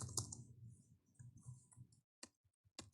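Sharp clicks from a computer mouse during Excel work, a few crisp isolated taps near the end after a stretch of low murmuring background.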